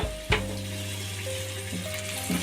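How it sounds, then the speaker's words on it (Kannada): Bottle gourd frying in ghee as milk is poured in for sorekaayi halva, a steady close sizzle with a brief louder splash near the start and soft stirring scrapes later. "ಇದಕ್ಕೆ 1 ಲೋಟ ಆಗೋಷ್ಟು ಹಾಲು ಹಾಕೋತಾ ಇದ್ದೀನಿ"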